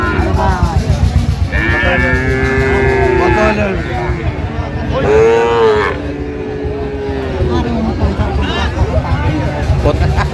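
A Sahiwal cow moos loudly twice in long drawn-out calls, close by, over a busy background of crowd chatter at a cattle market in Dinajpur.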